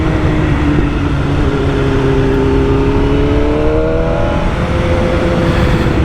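A BMW M1000R motorcycle engine drones steadily on a ride through Australian forest, loud and close with wind rush, pitch climbing gently then settling as the bike accelerates, no talk.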